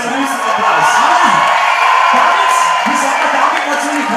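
A crowd cheers and applauds continuously, a loud wash of clapping and shouting with voices calling out over it.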